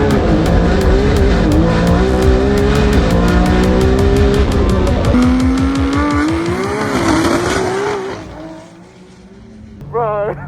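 A BMW street car making about 270 kW at the wheels accelerates hard in a Sydney roll race, its engine loud and rising through gears with shifts, heard from inside the car before fading near the end.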